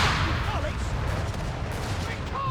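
Artillery fire rumbles in Company of Heroes 3 during a 2v2 match, a dense wash of distant blasts and gunfire under continuous commentary.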